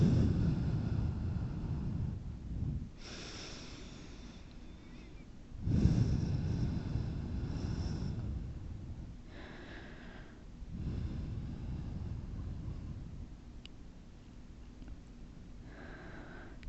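Deep, slow breathing during a yoga flow: long audible inhales and exhales alternating over about seventeen seconds, close and soft, with no talking.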